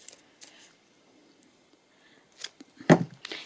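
Paper being cut with scissors while making a small cottage-style journal: a few quiet snips early on, then a cluster of sharper, louder cuts near the end, close and with no talk.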